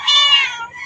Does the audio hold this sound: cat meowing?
yes